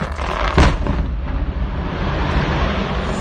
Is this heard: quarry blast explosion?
yes